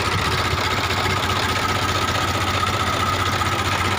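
A 1978 HMT 3511 tractor engine idles with a steady, loud, close, continuous low rumble and mechanical chatter that stays even from start to finish, with no talk.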